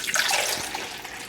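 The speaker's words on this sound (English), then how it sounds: "Pour the water in," A brief, steady splash of water pouring close by into a Mr. Coffee Mini Brew 5-cup coffee maker, bright and hissing, with no voices.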